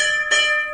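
A metal temple bell at the Hanumangarhi Hanuman temple struck once, a bright close ring with long sustained overtones.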